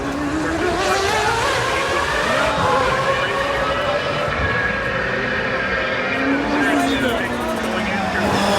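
Mazda 767B rotary-engined race car with about 600 hp, running in a historic Camel GTP race on the Long Beach street circuit, its steady high-pitched rotary wail sustained throughout amid other engine noise, with commentary over it.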